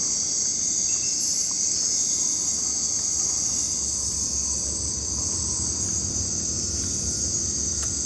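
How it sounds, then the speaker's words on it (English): A tiny cricket trills in an unbroken high, steady chirp in a Central American jungle at night, loud and close, with a soft hum of other night insects beneath it. "A tiny cricket."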